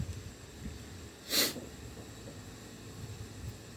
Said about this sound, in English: You hear me kind of sniffling and coughing and sneezing.